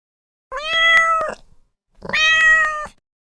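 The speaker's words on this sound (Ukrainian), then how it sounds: "мама кішка, тато кіт, дитинча кошеня" A domestic cat meows twice in a row, two clear, drawn-out calls close to the microphone with a short pause between them and nothing else heard.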